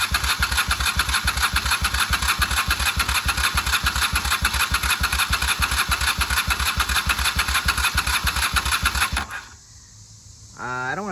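A 1995 Honda Shadow VLX 600 motorcycle cranks with a loud, rapid rhythmic starter chug for about nine seconds, then drops off and briefly stirs again at the end.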